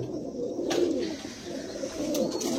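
Andhra pigeons coo in low, throaty rolling calls, several overlapping murmurs close by and repeated in soft waves with no voices.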